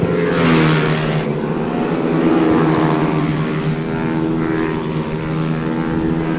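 Mini 110 motorcycles racing at a motoclub circuit near Albaida, Valencia, a loud sustained buzzing engine whine rising and falling in pitch as bikes pass close by.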